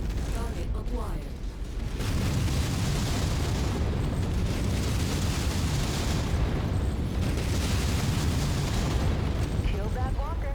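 A destroyed walker mech explodes in MechWarrior 5, a heavy rumbling blast with crackling debris that roars continuously for several seconds, loud and close amid ongoing combat noise.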